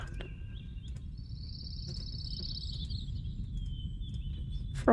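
A high, drawn-out warbling call from a creature in the game Riven rises and stretches over a few seconds above a low rumbling ambience, with faint clicks scattered around and a sharp noise at the very end.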